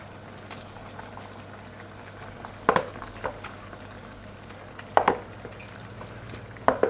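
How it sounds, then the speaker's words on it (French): Orzo and courgettes being stirred together in a hot frying pan, a steady low sizzle broken by a few sharp scraping stirs of the utensil against the pan. "on ajoute notre orzo avec les courgettes. On va venir tout mélanger."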